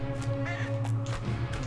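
A crow caws in the video game The End is Nigh, a few harsh repeated calls sitting over a steady droning game music bed.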